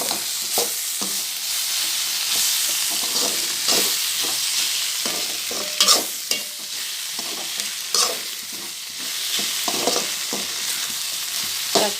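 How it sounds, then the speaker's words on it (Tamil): Tomato sautéing with okra in a pan for okra gravy, a steady bright sizzle with repeated spoon scrapes and stirring knocks throughout, fairly close and even, with no talking. "தக்காளி அது கூட நல்லா சேர்ந்து வதங்கி வரணும், வதங்கட்டும்"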